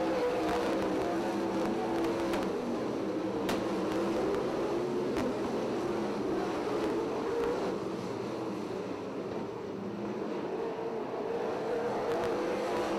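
Race cars racing at Ocean Speedway in the closing laps, their engines making a steady, fairly distant buzzing drone that rises and falls as the pack circulates, continuous with no talk.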